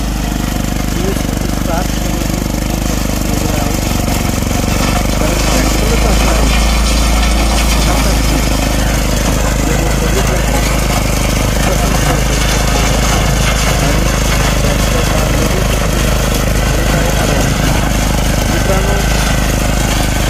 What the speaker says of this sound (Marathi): या ट्रॅक्टरचा आवाज तो म्हणजे असा आवाज आहे की जशी बुलेट गाडी चालते त्या पद्धतीचा आवाज आहे